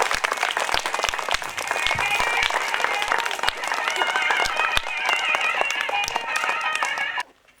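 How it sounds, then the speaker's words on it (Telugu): Applause from a crowd of primary schoolchildren at a school ceremony honouring a guest, dense steady clapping running several seconds and stopping abruptly at the end. "పిల్లలందరూ చప్పట్లు కొట్టాలి"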